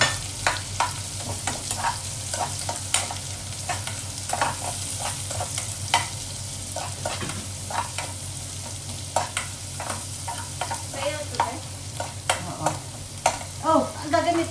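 Garlic and onion sauté in a hot pan for stir-fried bitter melon, with a constant sizzle and frequent close clinks and scrapes of a spatula stirring, no talking.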